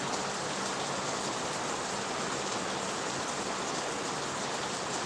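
Heavy rain falls in a dense, unbroken hiss, steady and fairly close, with no voices or other sounds over it.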